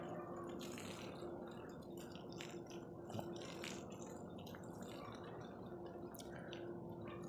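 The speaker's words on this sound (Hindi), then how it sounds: "टंकी भर गई है और अब मैं डाल रही हूँ पानी।" Water pours steadily from a filled tank outdoors on a cold morning, a continuous gurgling, splashing flow with occasional drips, close and fairly even in level throughout, with no talking.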